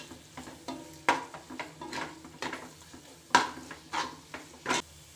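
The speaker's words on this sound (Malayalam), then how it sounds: "എന്നിട്ട് ഇത് നന്നായിട്ടൊന്ന് പച്ചമണം മാറുന്ന വരെ നമുക്കൊന്ന് ഇളക്കി കൊടുക്കാം." A spoon stirs ground spices and garam masala in a frying pan, scraping and clinking against the metal in irregular strokes over a soft sizzle, close up and fairly quiet.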